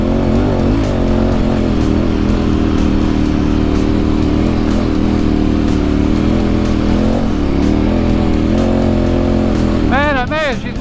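A motorcycle on Motoz Tractionator Adventure tyres labours hard through beach sand dunes, its engine droning loud and constant with shifting pitch and a brief rev near the end.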